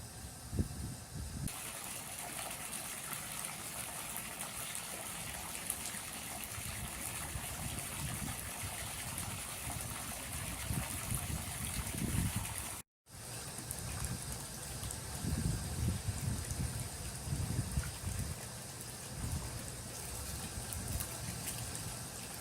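Water pours steadily into a garden pond, a continuous close trickling rush with a faint engine hum beneath and a momentary cut partway through.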